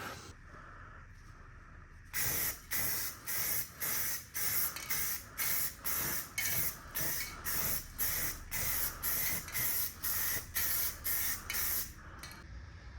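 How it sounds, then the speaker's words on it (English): A spray can coats the underside of a steel rock slider for a Lexus GX470 in a long series of short, evenly timed hissing bursts, each followed by a brief pause, all close to the listener. "So I'm gonna start by spraying down the bottom side of it"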